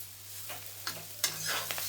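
Kaka rakata fry, a spiced meat fry with garam masala and coriander, stirred in a hot pan, faint scraping strokes over a soft steady sizzle, a few brief clinks, fairly quiet and close.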